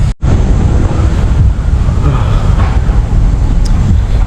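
Strong wind rushes and buffets across an open park in Manila where the Philippine flag flies on a flagpole, a loud continuous roar with a brief dropout near the start and no voices.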